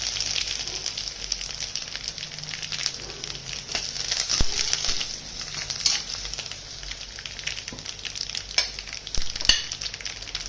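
Asafoetida, crushed garlic cloves and curry leaves sizzle in hot oil in a pan while cooking a potato bhaji, a steady close crackling fry with sharp spits and pops throughout.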